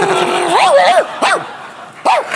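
A woman imitates a dog on a French television talk show, giving a loud whining bark-like vocalisation with rising and falling pitch, then two shorter yelps after brief pauses.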